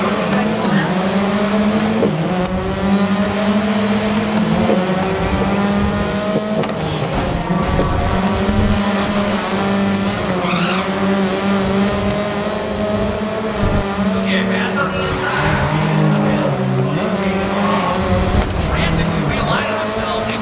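Race cars on the starting grid in the racing game Grid on Xbox Series X, engines droning and revving steadily together throughout, with faint background game sounds.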